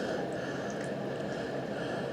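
Water in a hydro dip tank is stirred after a gun is dipped in it, giving a soft, continuous close sloshing and gurgling with faint drips, heard alone.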